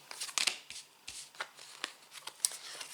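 Tarot cards gathered into a pile on a table during a reading, a quick run of soft close-up riffling and tapping flicks, several small bursts spread over a few seconds with quiet gaps between.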